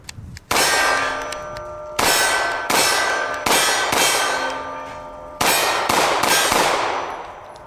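Glock 43X or Sig P365 Legion pistol fired after being buried, giving a string of sharp, loud metallic reports, about six shots spaced irregularly over several seconds, each ringing out and decaying.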